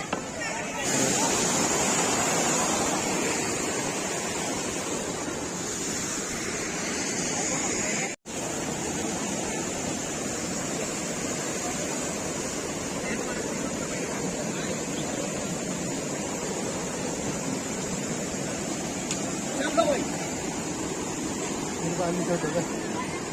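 Near the Banganga gate on the Vaishno Devi pilgrimage route, a river rushes in a constant broadband roar that stays steady and fairly loud throughout, with a brief dropout partway and no clear voices over it.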